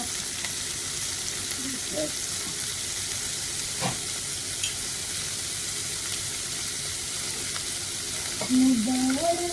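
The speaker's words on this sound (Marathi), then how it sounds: "आता पहिलं तर आपण परतून घेणार आहोत" Washed spinach sautéing in a pan for palak paneer, giving a steady, fairly loud frying sizzle throughout with occasional stirring clinks and a brief tonal squeak near the end; no talking.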